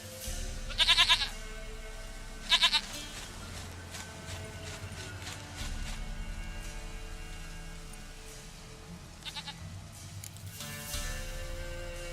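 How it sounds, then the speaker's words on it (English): A goat in The Witcher 3: Wild Hunt lets out several loud, wavering bleats in short bursts, separated by quieter stretches of ambient game sound. "Goat of mine, dearest, sweetest goat."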